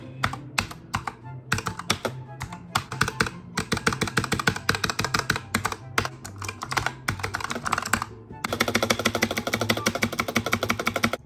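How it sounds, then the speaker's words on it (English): Rapid, steady typing on a new mechanical gaming keyboard, with dense clacking keystrokes that run continuously, pause briefly, then resume faster and louder near the end, with no talking. "I finally got this keyboard"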